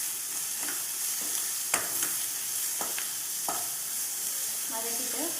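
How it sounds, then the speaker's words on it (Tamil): Onions sautéed with salt in a pan for vadai curry, giving a steady soft sizzle with scattered scraping and stirring clicks of a spatula, close and alone without talk. "நல்லா வதக்கிக்கோங்க."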